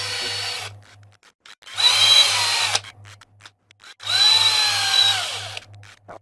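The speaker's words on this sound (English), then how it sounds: "So run the drill from this side of it" A power drill whirs through three separate drilling bursts on Voron 2.4 3D printer Z drive parts, rising in pitch as it bites, with a low steady hum pulsing underneath and quiet gaps between.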